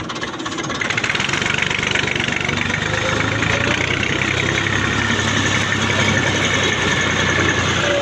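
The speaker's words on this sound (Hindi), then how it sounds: "बंद कर दिता ट्रैक्टर" A 40 hp tractor engine idles steadily at close range, a continuous low rumble with a knocking, uneven texture that runs alone the whole time after a brief quieter start.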